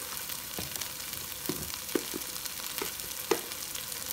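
Dried red chili peppers fry in a pan, with a soft continuous sizzle broken by several sharp clicks and scrapes of stirring, some louder than others, close and quiet with no voices.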